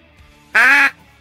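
A duck call is blown to mimic a nasal, sinus-heavy duck quack, producing one loud, short, buzzy blast close to the microphone.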